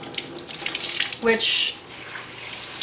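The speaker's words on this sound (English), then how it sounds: "Okay, so I'm going to wring out my clothes." Water splashing and dribbling as rinsed clothes are wrung out by hand, a short watery gush swelling and fading near the middle, with a brief spoken word alongside.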